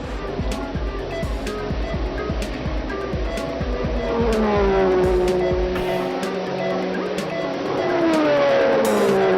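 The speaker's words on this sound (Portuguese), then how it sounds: "o potente motor turbo da Renault dessa vez não teve problema" A 1980 Renault turbo Formula 1 car races past, its engine droning loud and steady with rising and falling pitch sweeps as it passes, under a constant roar of crowd and track noise.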